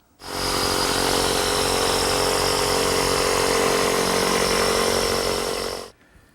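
A power saw rough-cutting excess wood from a tilt-top tabletop, starting abruptly into one loud, continuous buzzing whine that holds steady for nearly six seconds, then cuts off sharply.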